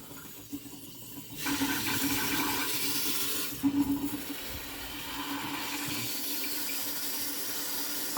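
Water rushes steadily through a tankless water heater during flushing maintenance, with the cold side open. A loud, continuous hiss and gurgle swells and shifts in places, with no voices.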